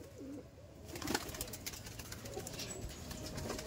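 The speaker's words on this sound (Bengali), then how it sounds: "দেখুন পায়রা দেখুন কত পায়রা আপনার সাথে" Pigeons cooing in a loft, soft low coos repeating from several birds, close and quiet, with faint background rustle.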